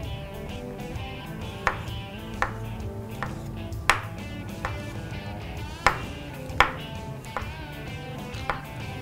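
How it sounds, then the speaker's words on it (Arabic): Mushrooms being chopped with a knife on a cutting board, a series of sharp, distinct knocks at an irregular, unhurried pace, close and clear over faint kitchen background noise. "هبدأ دلوقتي اقطع المشروم"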